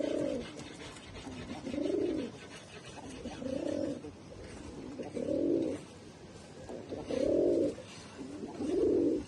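Pakistani teddy pigeons coo close by, six low, rounded bursts of cooing coming at fairly even intervals of just over a second, with quiet stretches between and no talking.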